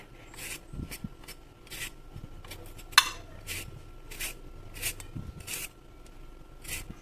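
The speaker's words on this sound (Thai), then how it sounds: "ล้างทำความสะอาดมันฝรั่งเรียบร้อยแล้ว เราจะมาปอกเปลือกนะคะ" Repeated short scraping strokes as a peeler runs over a potato, steady and close, with occasional light knocks and a small clink.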